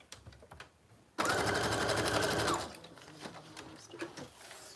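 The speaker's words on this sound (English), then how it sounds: "So I'm gonna sew that on really quick." A sewing machine stitches lace onto a journal in one quick burst of rapid mechanical chatter lasting about a second and a half, with quiet handling noises before and after.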